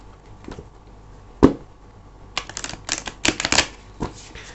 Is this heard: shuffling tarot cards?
yes